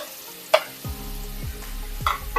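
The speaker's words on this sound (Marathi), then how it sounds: "तुपावरती आपण 1 ते 2 मिनिटांसाठी ऍपल चांगलं परतून घेणार आहोत।" Grated apple stirred in hot ghee sizzles softly while a utensil scrapes and taps the pan a few times in a steady rhythm, with no voices.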